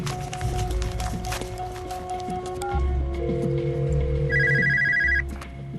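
A telephone rings during a phone call, its repeated electronic tones sounding over a busy background of low rumbling and clatter, with a higher ringing pattern near the end before it cuts off.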